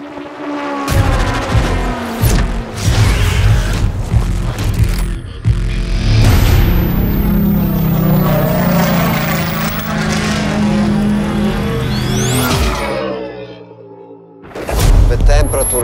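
From inside a race car, the engine roars loud and steady, with sharp rises and falls in pitch as it revs and shifts through gears, then cuts out briefly before a final burst.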